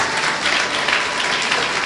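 Loud, sustained applause from an audience at a gathering, a dense, even wash of clapping hands that holds steady for a couple of seconds with no voices over it.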